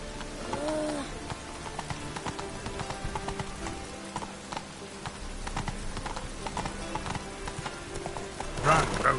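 Geralt's horse Roach in The Witcher 3 clip-clops at a steady rhythm with a brief whinny near the end, the hooves close and moderately loud under the game's background ambience.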